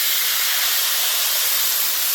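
Water poured into a hot pan of spiced soybean curry sets off a loud, steady, broad hiss of steam that fills the whole moment without pause.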